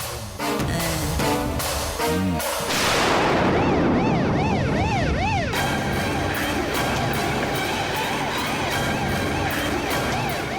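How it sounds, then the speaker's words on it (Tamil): A police car siren wails, rising and falling amid loud, cluttered background noise, continuous and fairly close, with some clatter and distant voices. "டேய் போலீஸ் வண்டியான்னு பாரு"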